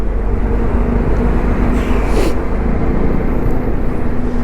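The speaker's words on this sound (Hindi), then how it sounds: "उसी का ट्रैफिक है देखो।" Steady road traffic at a busy highway junction in India, a continuous dense wash of engine and tyre noise with no distinct passes standing out and no talking.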